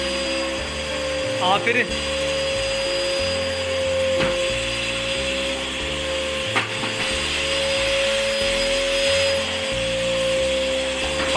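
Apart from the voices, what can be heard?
repaired vacuum cleaner running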